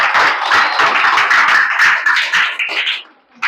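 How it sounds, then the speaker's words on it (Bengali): An audience at a madrasa students' Arabic writing competition claps together during a prize giving, a dense burst of applause that holds steady for about three seconds, then quickly dies away. "দর্শক একবার হয়ে যাক সবাই হাততালি।"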